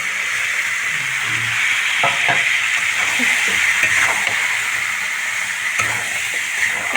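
Potatoes and boiled peas sautéing in a pan for ghugni give a steady broadband sizzle throughout, with occasional soft scrapes and stirring taps over it.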